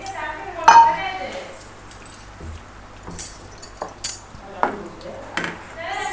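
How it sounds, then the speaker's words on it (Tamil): Wheat flour being stirred and roasted in ghee in a pan over low heat, for a quick Indian sweet, gives scattered metallic scrapes and clinks of a spoon against the pan over a faint low hum. "1 கப் அளவு கோதுமை மாவு வந்து நம்ம சிம்மிலே வச்சு நல்லா வந்து கிளறி விடணும்."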